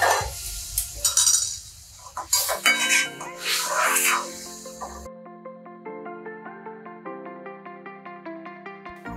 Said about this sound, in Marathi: आता आपण त्याच्यामध्ये हे उकळलेलं पाणी ओतून घेऊया.